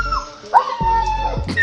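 A dog whimpers and yelps in distress, high whining cries broken by short sharp yips, close by, while being struck.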